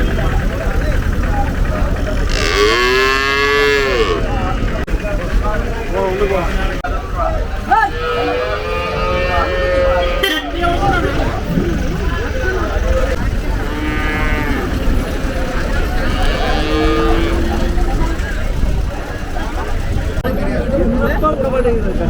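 Native white cattle at the Kundadam cattle market moo repeatedly, several long lowing calls near and farther off over steady crowd babble and engine rumble, with people talking throughout.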